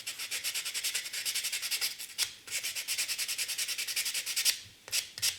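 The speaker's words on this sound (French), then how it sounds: "il y a juste les petits bouts de raccord à poncer, que ça fasse propre quand même" Small joint nubs on a plastic model kit part are sanded by hand, a close, rhythmic back-and-forth rasp of quick even strokes, briefly pausing twice before resuming.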